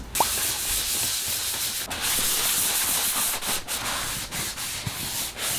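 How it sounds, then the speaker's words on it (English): Steady close-up rasping of 500-grit sandpaper rubbed back and forth over painted fabric, a continuous dry scratchy hiss with slight pulses in each stroke. "I'm going back over with 500 grain sandpaper to literally just sand over and smooth it all out."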